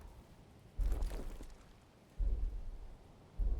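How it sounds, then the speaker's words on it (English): Rain in the video game Code Vein II falls as a steady soft hiss, broken by three deep rumbling thunder-like booms spaced a second or so apart, with no voices. "All right, so raining right now. It's raining."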